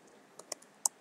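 A few sparse, faint computer keyboard key clicks, three or four distinct taps at uneven intervals against a quiet background, from typing code in Visual Studio Code.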